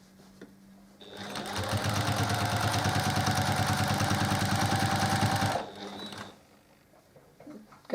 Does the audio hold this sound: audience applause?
no